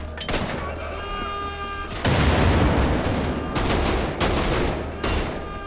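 Loud gunfire from a shotgun-style weapon in the shooter game Wolfenstein: The Old Blood, with sharp blasts and a heavy burst near the two-second mark, followed by further repeated shots over game noise.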